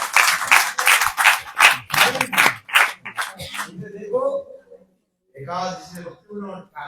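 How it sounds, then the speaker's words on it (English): Audience clapping at an evening Hari katha religious talk in Australia: a burst of many hands applauding for a few seconds, fading out as a speaker's voice returns over the tail. "Please clap, everyone."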